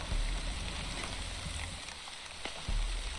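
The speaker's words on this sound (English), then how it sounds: "It's raining" Steady rain in the village-building game The Wandering Village, a dense, even hiss of falling water with a deeper rumble that swells near the start and again at the end, heard alone without voices.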